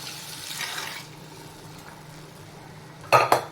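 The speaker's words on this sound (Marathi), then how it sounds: "आता त्याच आमटीचं जे कुकरमध्ये पाणी होतं ते मी पाणी याच्यामध्ये टाकून घेणार आहे" Water from a pressure cooker poured into a mixed-sprout potato amti in a pot: a soft pour and stir early on, a quiet stretch, then two sharp metallic clinks of a utensil near the end.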